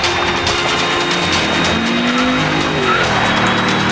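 A loud car engine roars continuously while tires squeal in a long skid, rising and falling, close and dominant.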